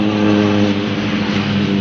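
A motor tricycle hums along toward a tunnel, its engine drone steady and close with a low rumbling tone throughout.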